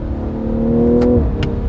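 A BMW M340i xDrive with a ZF automatic gearbox accelerates hard, its engine note climbing steadily in pitch, then a brief dip as a gear snaps in, heard loud and close from inside the car.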